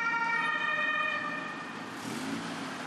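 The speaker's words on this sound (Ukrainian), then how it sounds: "Біля центральної міської лікарні не змовкають сирени швидких." Ambulance sirens wail outside a central city hospital in Ivano-Frankivsk, a steady, fairly loud layered siren tone carrying continuously through the street with no talk.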